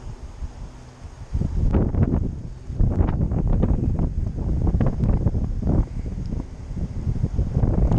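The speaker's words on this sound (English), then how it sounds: "the wind is blowing from the south" Strong wind buffets the microphone of a drone in flight, a steady, loud rushing roar with gusts rising and falling throughout and no talking.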